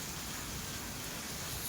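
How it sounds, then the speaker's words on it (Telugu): Heavy summer rain pouring down steadily, a dense, even hiss with no breaks and no voices. "సో చాలా బాగా పడుతుంది వాన."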